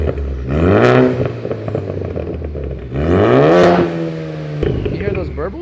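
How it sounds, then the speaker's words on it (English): Ford Focus ST engine revved twice in strong rising sweeps that fall back to idle, loud and close, with turbo burbles and crackles as each rev drops and a sharp clunk near the end. "You hear those burbles? Those things sound pretty solid. That's a cool turbo sound now."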